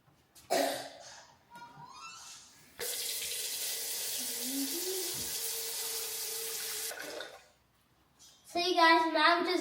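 Tap water pours steadily into a cooking pot in a home kitchen for about four seconds, a broad even rush, with brief talk and a cough before it and talk resuming after the flow stops.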